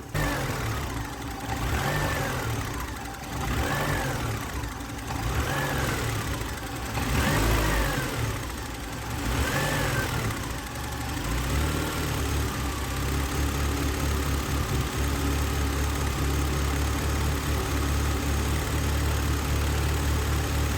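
A Volkswagen Passat B3 engine with a misfiring cylinder runs steadily, revving up and down in repeated swells at first, then settling into a low, even idle rumble.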